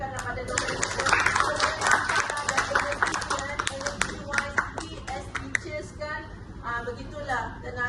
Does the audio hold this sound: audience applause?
yes